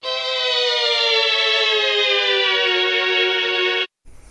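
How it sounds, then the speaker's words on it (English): A Mellotron's pitch knob turned quickly, giving a loud, sustained, harmonic-rich tone that bends gradually downward like a slowing motor before cutting off abruptly, with a short burst after. "it's really dramatic if you change the pitch knob quickly"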